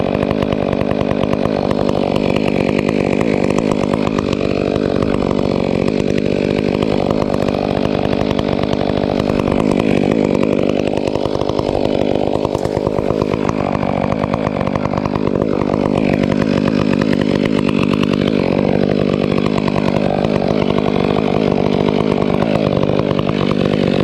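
A chainsaw runs loud and continuous for the full stretch while cutting a face cut to fell a tree on a farm, its engine revving up and down as the bar bites into the wood.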